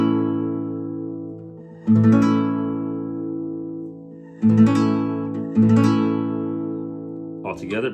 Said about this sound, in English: So you strum the bottom 5 strings.